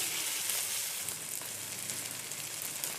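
Buttered low-carb sandwich bread fries butter side down in a pan, giving a steady, dense sizzle that carries on unbroken throughout, close and alone with no voices.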